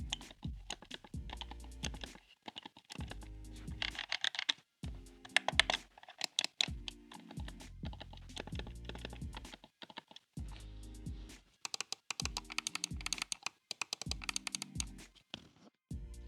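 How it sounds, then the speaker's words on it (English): Clicky switches on a DIY GameBoy-style computer mouse being pressed in rapid bursts of sharp, crisp clicks, close and loud, with short pauses between clusters and no talking. "clicky switches are pretty satisfying, I have to say"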